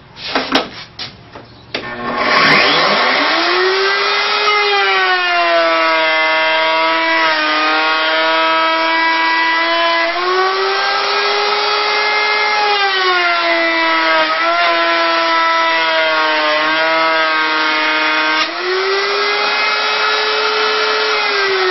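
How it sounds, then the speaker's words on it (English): A power saw cutting a groove in wood for a face-frame panel spins up and then runs loud and steady for about twenty seconds, its pitch dipping slightly as the blade bites and recovering between passes. "So I'm going to cut the groove now."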